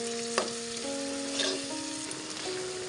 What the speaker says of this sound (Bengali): টমেটো দিয়ে আমি আর 2 মিনিট কষিয়ে নিচ্ছি